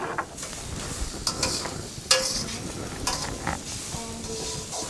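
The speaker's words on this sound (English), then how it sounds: "And we fry it until it's a little bit soft." Chopped onion and mixed vegetables frying in a pan for fried rice, a soft steady sizzle broken by stirring scrapes and a few clinks of utensil on the pan, close and fairly quiet.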